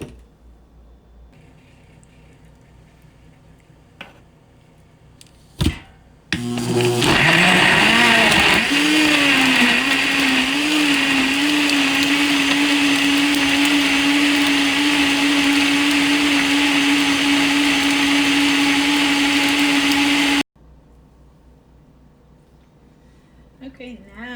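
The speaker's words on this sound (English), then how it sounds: "And then I'm going to get it in the blender." A blender starts with a few clicks and knocks, then runs loud and steady for about fourteen seconds blending ginger and turmeric juice before cutting off abruptly, with quiet sounds around it.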